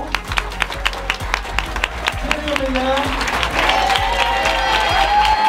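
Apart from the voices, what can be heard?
audience applause for PSG handball players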